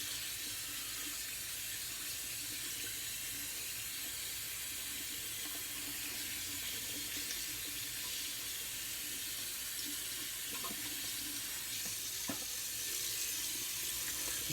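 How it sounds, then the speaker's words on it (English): A shaving brush rinsed under a running tap, water streaming steadily and fairly loudly for the whole stretch, with a couple of faint clicks near the end. "Clean out my brush while I'm letting this alum sit on."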